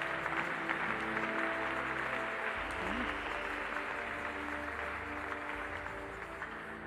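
A church congregation breaks into sustained applause and acclamation, a dense wash of clapping with soft tonal music held underneath that fades slightly toward the end.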